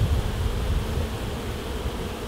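Honeybees buzz at an open hive during a UK hive inspection, a loud, dense, steady drone heard close up and uninterrupted.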